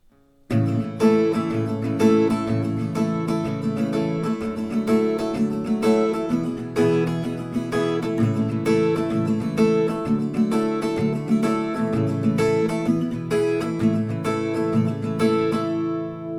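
Strummed acoustic guitar plays the verse chord progression of a song alone, moderate tempo, with no voice.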